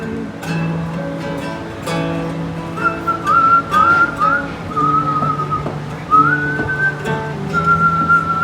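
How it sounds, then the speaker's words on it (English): A person whistles a lilting melody alone, clear and close, with wavering notes and short gaps between phrases. "my little homage to him was the whistle at the end"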